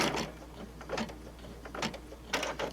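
An embroidery machine sews a triple stitch on a zippered pouch held in the hoop. The mechanism gives off a close, steady hum with rhythmic ticking and whirring bursts as the needle moves, and no one talks.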